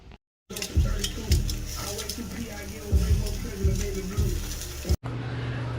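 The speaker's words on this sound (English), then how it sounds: "Fire up the grill" Food cooking on a grill gives off a steady, close sizzle, with low thumping bursts recurring underneath and a short break near the end.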